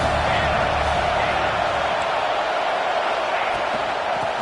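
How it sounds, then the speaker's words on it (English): A video game football stadium crowd roars continuously on a third down in an Ohio State Buckeyes game, a steady loud wash of cheering throughout. "The Buckeye crowd alive on 3rd down."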